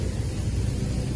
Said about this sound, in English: some steam sounds coming out of speakers